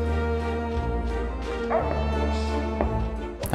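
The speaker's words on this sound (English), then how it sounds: "Now I hear a dog." A dog in the video game Trine 4 gives a few yipping, whimpering barks over a steady droning game soundtrack, with a louder burst at the end.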